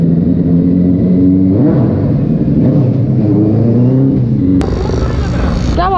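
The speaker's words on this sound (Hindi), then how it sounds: "बाइक निकाल रहा हूँ अब, आवाज़ सुनना खाली, बाइक का बूम बूम कर देंगे यहाँ पे पूरा।" A motorbike engine idles loudly up close, then revs in rising and falling bursts, its throaty drone climbing in pitch toward the end.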